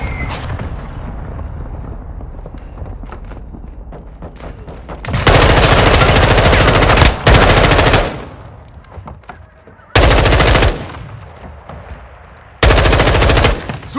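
Machine gun fire rattles loud and close in Call of Duty Modern Warfare, coming in several long sustained bursts of rapid automatic shots separated by quieter stretches of battlefield noise and distant crackle.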